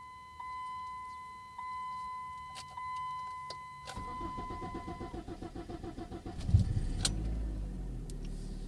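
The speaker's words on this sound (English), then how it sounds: "this is what the car sounds like before I did the valve cover and the spark plug tubes and the new spark plugs" 2002 Dodge Neon with oil in the spark plug tubes and misfire trouble: chimes and a soft hum come first, then the engine cranks in a fast rhythmic churn and catches into a running idle, heard close with no talk.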